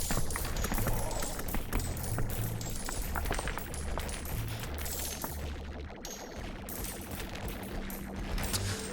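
Flak cannon dwarves firing in a video game, a steady barrage of sharp repeated bangs and crashes over a continuous rumbling battle din, no talk.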